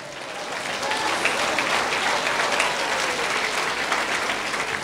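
A church congregation bursts into loud, continuous applause, the dense clapping starting after a brief moment and holding steady until the end.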